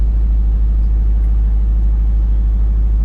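2014 Audi R8 4.2 Quattro V8 running steadily nearby, a loud, deep, constant rumble with a throbbing low-end pulse and no talk over it.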